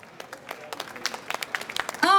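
Scattered applause from an audience in Piazza Manzoni, Jesolo, starting as sparse claps that thicken toward the end, where a voice cuts in over them.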